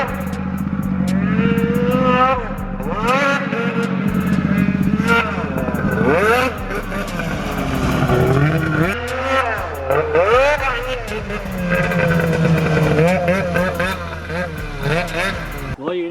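A snowmobile engine runs laps on a track, loud and close. It revs up and down continuously in rising and falling whines as the rider accelerates and eases off through the turns.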